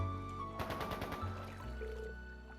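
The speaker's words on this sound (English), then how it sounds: "Is that gunfire?" Gunfire in the Trails into Reverie video game, a quick rattling burst of rapid shots over a soft musical background, fairly faint and short.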